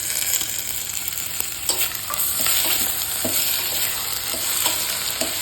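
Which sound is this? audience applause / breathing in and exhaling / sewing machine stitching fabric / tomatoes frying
tomatoes frying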